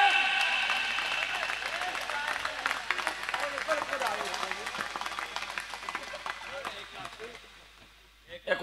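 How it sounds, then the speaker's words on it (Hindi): An audience at a gaushala event in Banwada claps in a dense, sustained patter that gradually fades, with someone speaking loudly over it. "कम ऐसा ताली भाजी बजाओ कम है"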